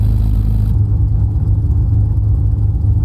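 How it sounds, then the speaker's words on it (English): Aircraft taxiing to the runway in Microsoft Flight Simulator 2024, a steady low engine drone and rumble with a slight clatter, continuous and close. "So as we're taxiing to the runway"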